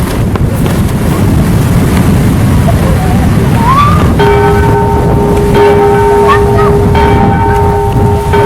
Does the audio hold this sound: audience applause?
no